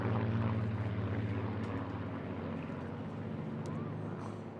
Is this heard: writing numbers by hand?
no